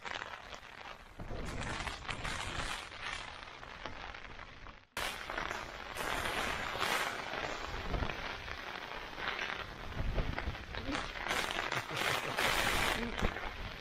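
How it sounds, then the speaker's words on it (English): Rain falling on the outside of a tent while wild camping on Dartmoor in October, a steady, dense patter throughout with a brief break partway, heard from inside. "listening to the rain outside"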